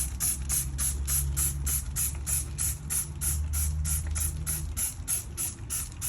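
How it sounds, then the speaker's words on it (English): Rapid, evenly spaced squirts of Easy Off degreaser from a spray bottle onto a food truck's diamond plate floor, one after another in a steady rhythm over a low background hum. "I'm gonna spray it with your Easy Off degreaser"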